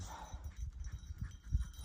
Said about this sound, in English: I gotta wait for my dog to catch up